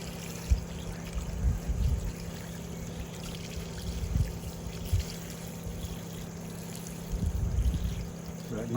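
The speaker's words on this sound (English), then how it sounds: "That noise you hear in the background, that's actually a 110 pump." A 110-volt water pump on an off-grid rainwater setup runs with a steady low hum beneath running water, constant and nearby, with occasional low thumps.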